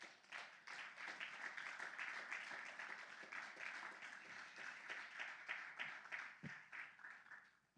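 A church congregation applauding during a Spanish-language sermon, steady quiet clapping from many hands heard at a distance, fading slightly toward the end with no talk over it.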